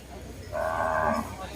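Cattle and buffalo at a weekly livestock market in Thailand, with one clear, sustained moo lasting about half a second, heard fairly close over low background murmur.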